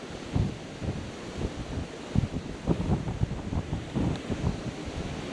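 A storm blows across a lakeshore during an October flat-feeder fishing trip, with gusting wind buffeting the microphone and waves surging in uneven, rumbling bursts, loud and close, with no talking.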